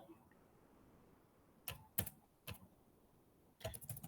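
Keystrokes on a computer keyboard during a database lesson, a few scattered clicks at first and then a quicker burst near the end, close and fairly soft over a quiet background.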